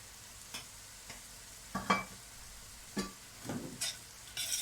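Flour toasting in a pan is stirred with a spoon, giving soft scraping strokes and a faint sizzle, with several sharper scrapes toward the end, quiet and close with no talk.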